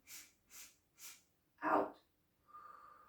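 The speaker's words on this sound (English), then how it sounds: "So 3 sniffs in," Three quick, separate sniffs in through the nose during yoga breathing, followed by a louder breathy exhale out, then a faint steady tone; no talking over it.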